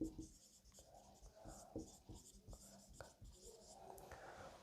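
A pen writing a channel name by hand on paper gives close, quiet scratching strokes in short irregular bursts, with soft breathing and faint murmuring around it.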